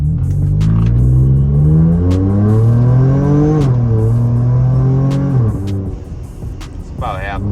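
A car engine revs at about half throttle, a loud close rumble rising and falling in pitch over several seconds before easing off.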